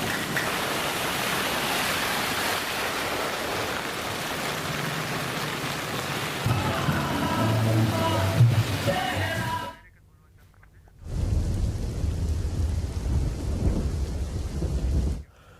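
Monsoon rain pours steadily over the Madhapar crossroads area of Rajkot as a dense, loud hiss with a low thunder rumble in the middle. It cuts out briefly, then returns just as heavy, with some voices faint beneath.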